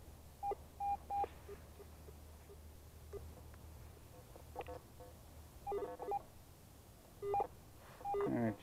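Garrett AT Pro metal detector sounding short electronic signal tones over buried iron, several brief beeps in separate bursts above a low steady hum, with no talk.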